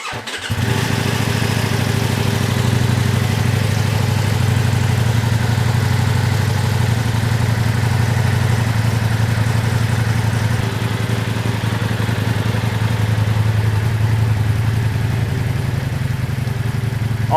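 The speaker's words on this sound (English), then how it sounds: "Let's go ahead and turn it on and see how it sounds." A 2022 Ducati Multistrada V4S fitted with slip-on mufflers starts up and settles into a steady, loud, close idle with an even low rumble that holds for over fifteen seconds.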